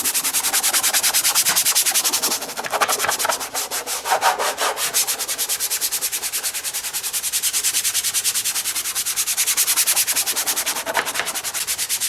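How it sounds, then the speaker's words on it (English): Back-and-forth scrubbing of a brush working heavy duty trim cleaner into a Jeep Wrangler's plastic fender, a steady close rasp running for the whole stretch with only brief softer dips. "squeeze some on the fender, use this brush and scrub"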